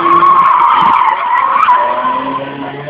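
A VAZ-318, a home-built car, skids through an autoslalom race course in Ivano-Frankivsk, giving a loud sustained tire squeal with engine roar for about three seconds, no talk over it.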